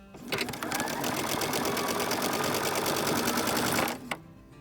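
A sewing machine stitches fabric for flying geese quilt blocks, its rapid, even mechanical whir running loud and close for about four seconds before stopping with a small clunk.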